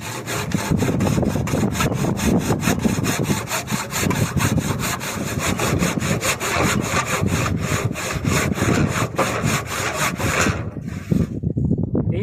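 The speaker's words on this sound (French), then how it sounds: "faut passer à la scie" A hand saw cuts through firewood in steady, rhythmic back-and-forth strokes, close and loud, continuing without pause for about ten seconds before stopping abruptly.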